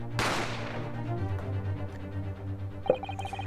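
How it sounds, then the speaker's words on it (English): A single gunshot effect from The Great Ace Attorney Chronicles video game cracks out at the start and decays into a long reverberant tail over low game music, with a faint chime later. "You heard a gunshot, you mean?"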